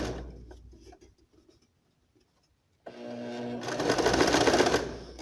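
A sewing machine runs a topstitch along a garment facing, starting after a quiet pause and whirring steadily and fairly close for a couple of seconds, preceded by faint handling noises.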